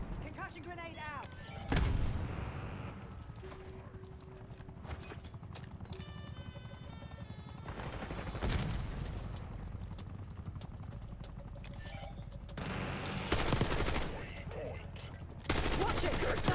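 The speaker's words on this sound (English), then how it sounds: "Concussion grenade out." Loud blasts and gunfire erupt in a chaotic shooter video game battle, with several heavy booms spaced across the clip, dense rattling shots and mechanical whirring between them, and a voice calling out over the din.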